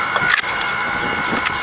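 A hydraulic log splitter axe with a quiet motor splits firewood, giving loud cracking and splintering wood sounds up close, with brief crunches and no talk.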